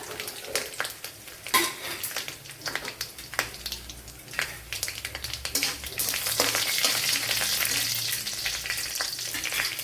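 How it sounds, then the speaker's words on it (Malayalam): Dried red chillies fry in a pan with mustard seeds for a Kerala-style spinach stir-fry, giving sharp crackles and a few clinks early on, then a loud, steady sizzle close up. "വറ്റൽ വറ്റൽമുളക് ഇട്ട് കൊടുക്കാം"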